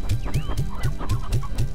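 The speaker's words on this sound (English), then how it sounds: "Ooh, briar hens." Briar hens in the Slime Rancher video game cluck in a quick regular series of about seven short bursts, close and clear, with a few brief chirps layered over them.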